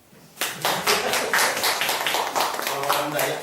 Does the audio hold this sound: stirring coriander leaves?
no